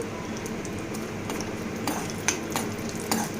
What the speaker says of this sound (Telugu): నెయ్యి వేసుకొని ఇందులో కొంచెం జీడిపప్పులు పలుకులు వేసుకొని వేయించుకోవాలి